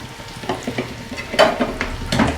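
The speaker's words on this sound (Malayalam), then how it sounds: "ദേ ഒരു അല്പം നാളികേരം കേട്ടാ ഇതങ്ങോട്ട് ഒഴിച്ചു കൊടുക്കാം" Coconut milk going into a simmering curry, with soft stirring and spoon scrapes over a low sizzle and a brief louder splash midway, close and alone with no talk.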